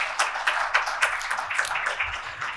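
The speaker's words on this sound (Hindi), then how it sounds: "जोरदार तालियों से उनका स्वागत और अभिनंदन कीजिए।" Applause from an audience welcoming former minister and MLA Jeevesh Kumar at a national doctors' award ceremony in 2025, a steady wash of many hands clapping with rhythmic peaks, fairly close and continuous, no talking.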